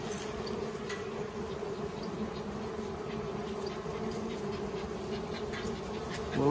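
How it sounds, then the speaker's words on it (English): Honey bees hum continuously around an opened hive, a steady, close buzzing swarm sustained throughout with no talking. "There's a lot of bees in there, Cora."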